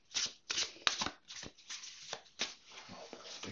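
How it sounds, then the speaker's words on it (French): A deck of tarot cards being shuffled by hand, with repeated riffling and sliding swishes in quick uneven bursts, close and soft, with no talking. "Les cartes sont assez mélangées."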